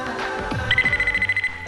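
A telephone rings indoors with a short, fast-pulsing electronic trill that starts partway through and repeats rapidly, loud and close, with no talking over it.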